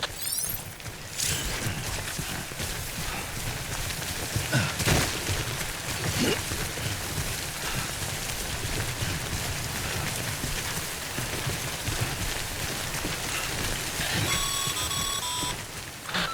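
Steady timefall rain in the Death Stranding video game, a continuous dense patter lasting throughout, with a brief electronic beeping near the end.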